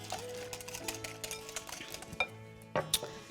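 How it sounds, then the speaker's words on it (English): Lemon juice and zest are whisked into fritter batter, giving quiet, close clinks and taps of a whisk against a bowl, with a few sharper knocks near the end. "And I'll just whisk all this together."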